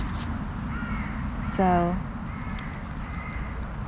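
A bird gives a single loud harsh caw close by, with fainter calls from other birds in the evening background, while someone speaks briefly.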